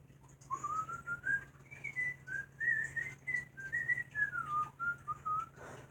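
Mario whistles a gentle, wandering melody, a clear, fairly quiet tune that rises and falls in smooth connected phrases over a faint background hum, walking among trees.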